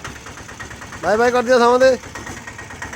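A steady engine idles with a low, even rumble throughout, while a person speaks briefly over it in the middle.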